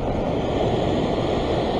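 Heavy ocean surf pounding a rocky Sydney fishing spot, a dense, continuous roar of crashing waves that fills the scene, close and loud with no talking.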